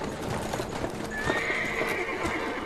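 Horse hooves clip-clop in a steady rhythm in the video game Amnesia: The Dark Descent, and partway through a drawn-out whinny rises over the hoofbeats, fairly close and clear.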